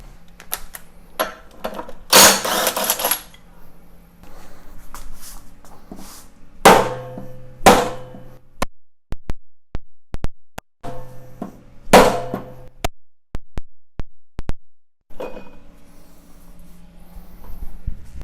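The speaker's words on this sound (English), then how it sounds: "I'm going to pop that flywheel off first" Metal clanks, taps and ratcheting clicks come from work on a John Deere JA65 mower engine as its flywheel is pulled off, arriving in irregular bursts with quiet gaps between them, close and fairly loud.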